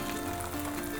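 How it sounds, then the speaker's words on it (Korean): Tofu sizzling in a pan, browning slowly, a steady close crackle and hiss that runs unbroken for the whole moment with no talking. "두부를 노릇해질 때까지 구우시면 되는데요."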